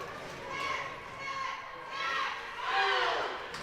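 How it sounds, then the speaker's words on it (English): A crowd at a youth hockey game cheers in rising and falling swells, rather distant and soft, with children's voices and shouting mixed into the arena noise. "You hear the cheer from the crowd."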